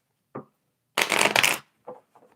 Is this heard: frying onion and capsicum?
no